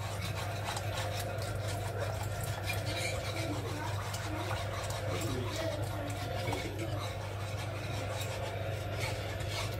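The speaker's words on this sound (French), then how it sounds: "Et vous mélangez bien au fouet" Steady scraping rasp of a whisk beating a gratin mixture in a bowl, continuous and close, with a low hum underneath and no break across the stretch.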